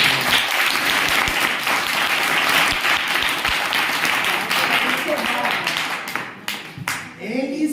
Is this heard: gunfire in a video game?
no